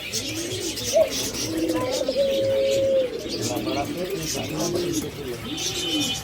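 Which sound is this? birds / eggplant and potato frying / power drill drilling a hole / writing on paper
birds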